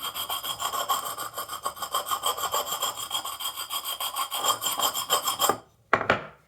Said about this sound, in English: scrape a little off the glass and see how it leaves those marks on it